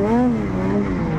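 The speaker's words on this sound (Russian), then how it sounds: "А там народ на речке еще газует." Snowmobiles rev their engines on a frozen river, a strained whining drone with a wavering pitch that carries on steadily, loud and fairly close, with a voice talking over it.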